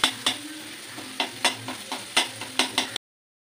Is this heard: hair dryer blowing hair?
no